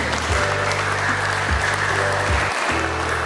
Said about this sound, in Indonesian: Kasih aplaus untuk Bapak